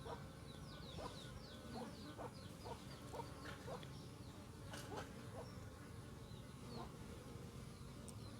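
A swarm of honey bees buzzes around beekeeping hands with a faint, steady hum and many short, fluttering wing passes that come and go close by, alone with no talking.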